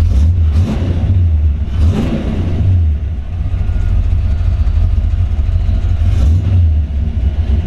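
A 1961 Pontiac Ventura's 389 Tri-Power V8, paired with a 4-speed and sitting in neutral, runs loud and close, with a deep idle broken by three sharp revs that rise and fall away.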